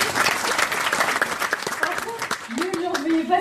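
Audience applause with broadband clapping throughout, mixed with voices and a tonal sound near the end, loud and close.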